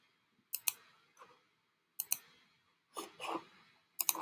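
A computer mouse clicks while working in GeoGebra geometry software: crisp, close clicks mostly in quick pairs, separated by short silences, with no talking.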